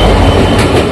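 The Nagaland Express rolls through the night between Golaghat and Lumding, a loud, close, continuous roar of rail noise and rattling carriages for one short burst.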